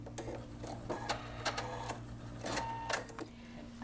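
A sewing machine stitches two quilt sides at once in quick bursts, its rapid needle runs starting and stopping against a steady motor hum, with no talking.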